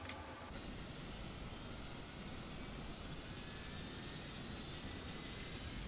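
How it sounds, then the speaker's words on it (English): A PMDG 777 jet engine spooling up during start in the MSFS 2020 flight simulator game: a steady, fairly quiet broadband roar with thin whining tones that slowly climb in pitch, heard alone. "Let's go ahead and start up engine. Number 2, right engine."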